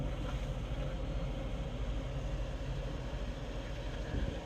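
A 2013 Toyota Prius cabin blower motor running steadily at high speed, a constant airy whoosh with a low hum, unbroken for the whole stretch with no talk.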